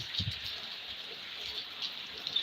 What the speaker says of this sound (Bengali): আজকে আল্লাহ রহমতে বৃষ্টি শুরু হয়ে গেছে